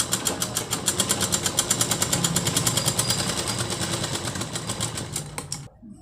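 A sewing machine runs a straight stitch along a blouse shoulder seam, its rapid, even needle clatter close and steady for several seconds before stopping abruptly.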